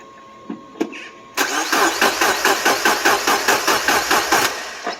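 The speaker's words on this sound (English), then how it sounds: "All right, new coil pack is in. Will it start? No." A car engine is cranked after a coil pack swap: a couple of clicks, then a rapid, even whirring churn of the starter that goes on for several seconds without the engine catching, close and loud.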